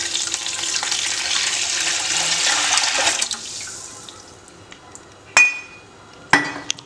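Water pours steadily into a cooking pot while making chicken biryani, a rushing splash lasting a few seconds before tapering off, followed by two sharp metallic clinks near the end.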